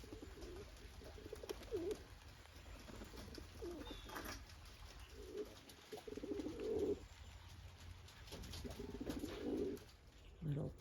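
Pigeons coo in repeated low bursts while bathing in a small pigeon bathhouse, several rounds of soft cooing spaced across the stretch over a faint background hiss.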